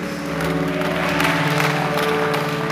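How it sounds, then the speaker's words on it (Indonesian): A church congregation applauds during a worship service, the clapping steady and fairly loud over sustained music with held tones. "Berikan tepuk tangan yang meriah buat Tuhan Yesus."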